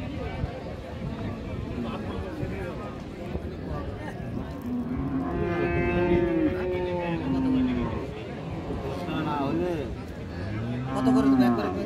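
A Friesian cow with her calf lets out drawn-out moos at a rural cattle market in Dinajpur, rising over steady crowd chatter and nearby voices, with another low call near the end.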